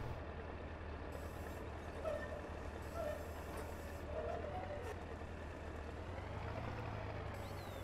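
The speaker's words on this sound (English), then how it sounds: "Fire that up, we'll need to get the tractor onto the trailer to unload the bales." A tractor engine in Farming Simulator 19 drones steadily at a low pitch, a constant mechanical rumble with slight shifts in tone, moderately loud and continuous with no talking.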